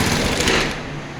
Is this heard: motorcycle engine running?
yes